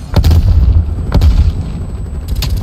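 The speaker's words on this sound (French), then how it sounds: "Je lance une grenade" A grenade going off in the video game Call of Duty: Black Ops Cold War, loud booming bursts with a heavy low rumble, several blasts in quick succession and another near the end, close and dominant with no talk over them.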